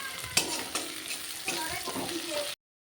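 Two large chopped onions with slit green chillies fry in oil, a steady sizzle broken by a few stirring scrapes and clinks before the sound cuts off abruptly.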